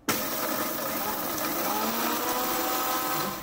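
Mixer grinder whirring steadily as it powders dried red chilies with asafoetida, a loud continuous motor drone starting abruptly and running without pause.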